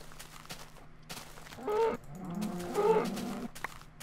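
Cows in a Minecraft-style video game give two short lowing moos a second apart over a faint steady background hum, with no talking.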